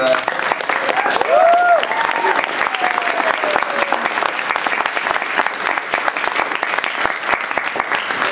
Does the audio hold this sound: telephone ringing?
no